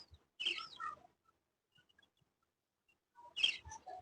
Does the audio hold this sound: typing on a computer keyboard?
no